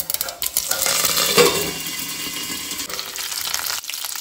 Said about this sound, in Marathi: उड्डाची दाळ आनी मेथी जी आसा पळय ती आमी मातशी फुलोवन घेवया तेला भितर